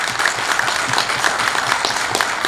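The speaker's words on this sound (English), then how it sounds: "let's give our panelists a big round of applause here." A seated summit audience applauds a panel on homeownership, a dense, even patter of many hands clapping at close range, sustained and steady for the whole stretch with no speech over it.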